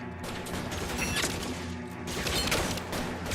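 Gunfire rattles in L.A. Noire, dense overlapping shots in a sustained fusillade with a couple of louder bursts, fairly close and with no talking over it.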